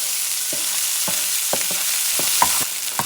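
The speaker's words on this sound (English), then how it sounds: "the pepper, and you're going to saute them." Peppers sauté in a pan as a steady, close hiss of frying, broken by a few light clicks and scrapes from stirring, with no talking.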